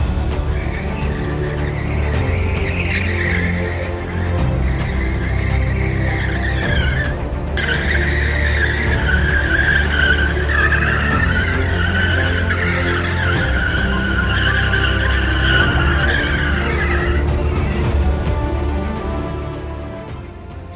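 Toyota GR Supra 2020 spinning donuts, its tires skidding and squealing in a loud, sustained wail over a steady engine roar that holds nearly unbroken for about twenty seconds, with a brief dip in the middle.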